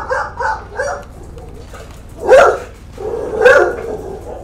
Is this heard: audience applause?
no